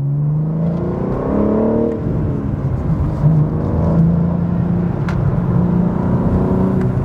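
A manual BMW M4 drives through an S-bend, its engine a steady, loud low drone and whir from inside the cabin, with mild shifts in pitch as the car carries through the curves.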